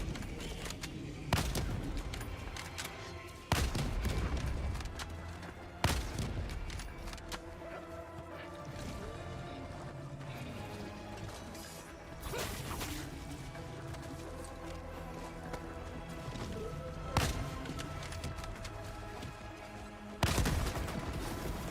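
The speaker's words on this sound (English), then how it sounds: "Stop shooting through the fence." Bursts of gunfire in Helldivers 2, shot through a fence: sharp, loud volleys and rapid automatic fire repeat at irregular intervals over a busy background of battle noise.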